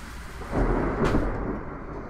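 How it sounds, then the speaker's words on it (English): A deep rumble of thunder rolls in over steady rain, swelling midway and fading slowly, with no voices. "Damn, it's raining hard."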